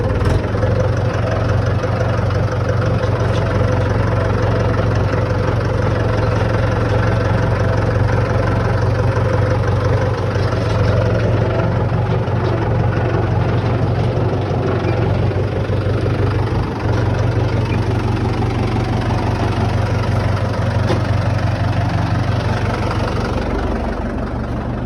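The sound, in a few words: tractor engine running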